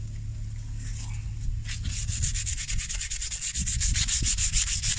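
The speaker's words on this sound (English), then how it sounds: "We're going to take some sandpaper and scuff up the entire thing." 150-grit sandpaper scuffs over a woven seat with steady back-and-forth rubbing strokes, close and continuous, quickening into a rapid rhythmic scrubbing; a voice says a brief word.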